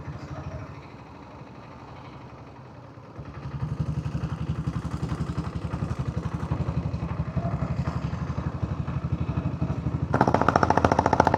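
A diesel Bullet motorcycle thumps steadily while riding downhill through wooded Jawadhu Hills at moderate speed, a close, continuous clattering engine beat that grows louder partway through.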